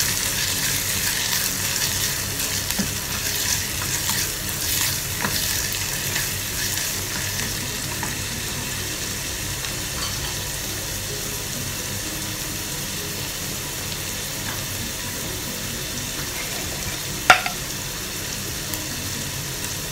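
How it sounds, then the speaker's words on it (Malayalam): Sliced onions sizzle in a pan, with a steady close frying hiss and occasional stirring scrapes, plus one sharp metallic clank near the end. "കട്ട് ചെയ്ത് വെച്ചിട്ടുള്ള സവാള ചേർത്ത് കൊടുക്കാം. നന്നായിട്ടൊന്ന് ഇളക്കി കൊടുക്കാം."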